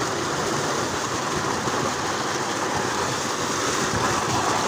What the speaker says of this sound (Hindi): ताजा पानी से समरसेबुल चला के नहा रहे हैं